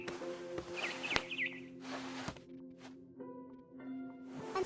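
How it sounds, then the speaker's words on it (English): A barn swallow chirps in What Remains of Edith Finch, giving a few short, faint, high twitters over a steady ambient hum, with soft thumps and gaps between them. "Then I heard chirping outside my window. It was a barn swallow going back to her nest."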